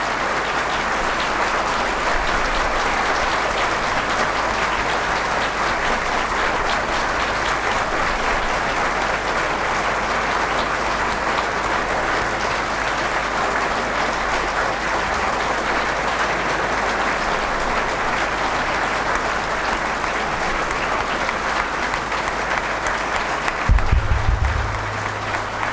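A seminar audience in Begusarai applauds to welcome a guest, long, steady, loud clapping from a large crowd that continues unbroken, with a brief low thump near the end.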